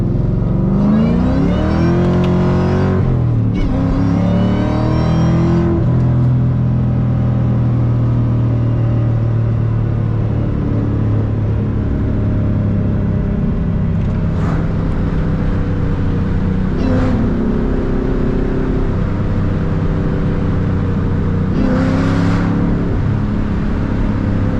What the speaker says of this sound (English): You gotta love that sound of that supercharger. It never gets old.